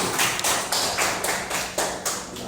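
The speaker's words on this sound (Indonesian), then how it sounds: "Ya, tepuk tangan dulu." A classroom group claps in short rhythmic bursts, about six evenly spaced rounds of hand clapping at close range, with no talk over it.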